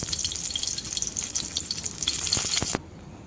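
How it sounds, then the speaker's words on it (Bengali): Koi fish frying in hot oil for a tel koi dish, a steady dense sizzle with a few spatters and pops near the end, then cutting off abruptly into near silence. "এবারে বাকি মাছগুলো ভেজে নিচ্ছি।"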